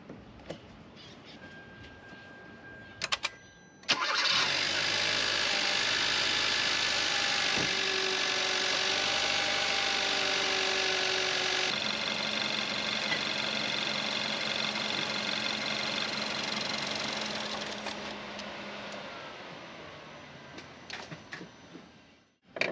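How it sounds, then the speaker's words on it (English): A Kia Soul's engine idles steadily for a long stretch during fuel injector cleaning, a continuous close mechanical hum that starts abruptly and fades slightly before cutting off as it runs out of fuel. "letting the engine idle"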